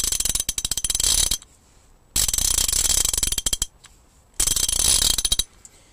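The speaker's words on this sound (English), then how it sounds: "If you can hear the ratchet mechanism itself," A Bergen / US PRO 1/2-inch drive 72-tooth ratchet clicks in three loud, close bursts of fine, rapid ticking, each about a second and a half long and separated by brief silences.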